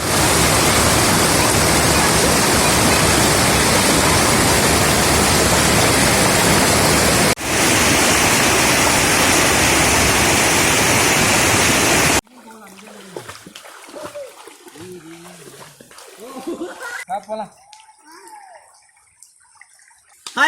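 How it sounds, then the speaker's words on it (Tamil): Mountain stream water in Mokkai Oodai spilling over rocks like a waterfall, a loud, steady rushing roar for about twelve seconds that cuts abruptly to a much quieter stretch with a voice speaking. "இந்த ஓடை அடிச்சுட்டு போகிற தண்ணி ஒவ்வொரு இடத்துல ஃபால்ஸ் மாதிரி கொட்டுது"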